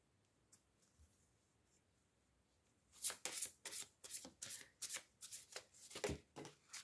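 A deck of oracle cards being shuffled by hand, a few faint taps at first, then a run of crisp, close riffling bursts repeating in quick succession.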